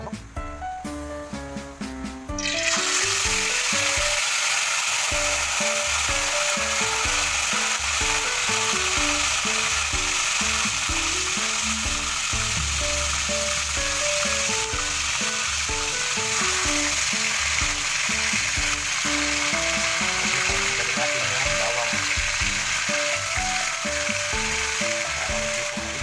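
Marinated chicken hits hot oil in a pan and sizzles loudly and steadily, a dense crackling hiss that continues without pause, with faint tones in the background.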